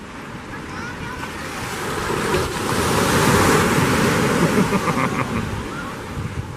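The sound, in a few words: waves at Laguna Beach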